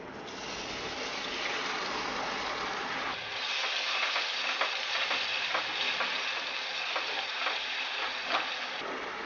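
Boneless chicken, about half a kilo, sizzles and crackles steadily in a hot pan, the frying noise continuous and close, with occasional sharper pops and stirring scrapes.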